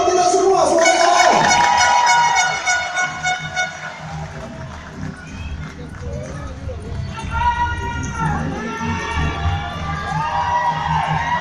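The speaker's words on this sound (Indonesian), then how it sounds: "tepuk tangan dulu dong buat kita semua semuanya." An audience at a student ambassador award night cheers and whoops loudly, with a honking noisemaker or horn blasting at first and voices shouting over the swelling crowd.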